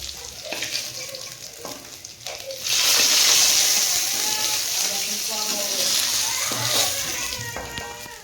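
Round fish pieces fry in a kadai, a close, continuous sizzle that swells louder midway, with utensil knocks and someone talking over it at times.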